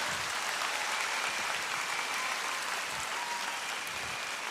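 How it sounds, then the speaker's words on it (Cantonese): Applause for George Lam from a large audience, a dense steady wash of clapping that stays fairly even for several seconds with no speech over it. "俾啲掌聲，林子祥"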